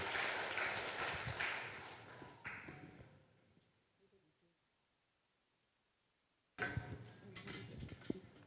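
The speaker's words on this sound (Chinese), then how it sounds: "咱这时的直接用拍手来代替我们的欢迎哈" A church congregation at a Sunday service claps to welcome a guest speaker: a burst of applause fades out, a near-silent pause follows, then another round of clapping starts, with some talking.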